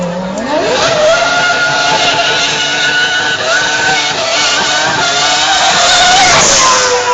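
Red Bull Formula 1 race car in Jamaica passing close by with a loud, high, rising engine scream that holds steady, then sweeps up again near the end, no talk.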